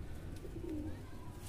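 A pigeon just caught and held in hand lets out a brief, quiet low coo partway through, against a constant low background hum.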